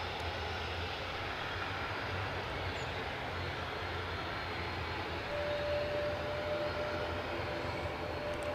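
An ATR turboprop airliner departs Edinburgh airport, its engines a steady, broad distant roar that holds evenly, with a faint thin tone emerging later.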